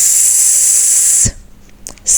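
A voice imitates a hissing snake with a long, loud, steady 'sss' held for over a second, close up, as part of a children's phonics reading lesson. A short thump follows, then quiet, then a few faint clicks and the hiss starting again.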